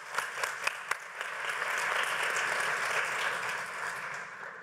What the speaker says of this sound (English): Maybe one more round of applause for Charlotte before she goes.